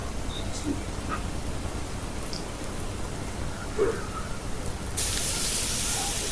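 Hot water poured onto rice frying in a pan for biryani, giving a dense rain-like hiss that swells and brightens sharply toward the end.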